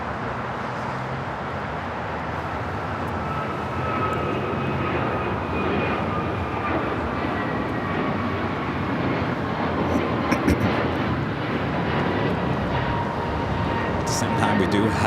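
An Emirates Airbus A380 on short final approach to runway 24 right at Los Angeles, a broad jet roar that builds slightly over the clip while a voice talks over it.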